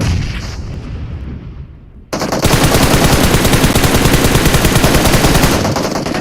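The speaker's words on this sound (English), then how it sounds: "He preps the nade. Throws a nade." Dense, loud automatic gunfire and blasts in the PUBG Mobile game erupt suddenly after a quieter stretch and continue as a sustained rapid barrage.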